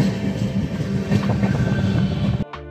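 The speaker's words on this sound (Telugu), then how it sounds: "ఇది సూపర్ ఫాస్ట్ ఎక్స్ప్రెస్." A superfast express train runs past nearby, a loud rumbling roar with rhythmic wheel clatter that cuts off abruptly near the end.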